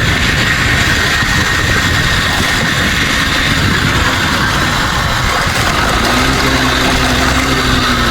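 A vehicle engine runs steadily and loudly on a village road, a continuous broadband rumble with a rising tone near the end as it passes close by.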